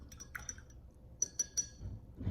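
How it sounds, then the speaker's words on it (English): A paintbrush is swished at the bottom of a cup of water, giving faint light taps and small clinks against the cup in a short irregular cluster, followed by a soft low rustle. "I'm gonna jump my brush at the bottom of my water cup"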